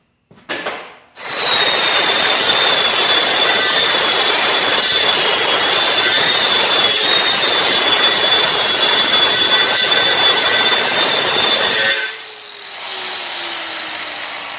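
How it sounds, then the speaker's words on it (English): An angle grinder with a grinding disc cuts down welds on a steel patch panel. It starts with a brief rising whir, then a loud, continuous, high-pitched grinding whine for about ten seconds before cutting off into a quieter spin-down. "It's a grinding disc is what it is. It's really good for cutting down welds."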